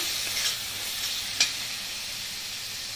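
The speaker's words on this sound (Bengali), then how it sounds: "এবার ভালো করে আরেকটু মশলাটা কষাতে হবে, যেহেতু ক্যাপসিকাম দিয়েছি।" Spice paste with capsicum paste frying in a pan for a Bengali taki shol fish curry, a steady broadband sizzle with a few short scraping stirs of the spoon, close and alone without talk.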